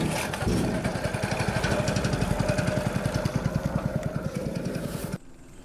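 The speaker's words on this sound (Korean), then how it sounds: "아, 엔진 소리 들려요." Boat engine running steadily, a rapid loud chugging pulse with broad noise, close and continuous until it cuts off just before the end.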